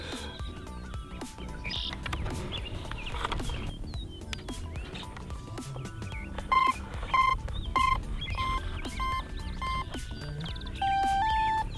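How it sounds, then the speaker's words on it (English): Startup beeps from the speed controller of a 64mm 6S electric ducted fan jet powered by two 3S batteries: a run of short, evenly spaced tones, with the last pair sitting lower, heard over steady background noise with birds chirping. "Six beeps."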